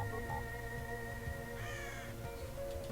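A crow caws in the Touhou Scarlet Curiosity video game, a short burst of harsh calls near the middle, set over steady game music and background sound.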